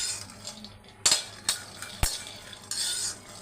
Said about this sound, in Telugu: ఇప్పుడు పల్లీలు వేయించుకుందాం